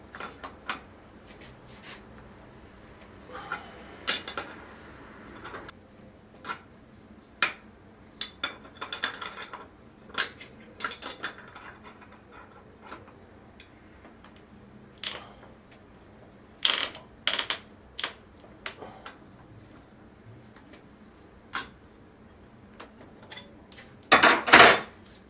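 Someone removes a bicycle crank arm with a crank puller and a wrench, giving sparse metallic clicks and clinks scattered across a quiet background, ending in a louder cluster of rattling taps.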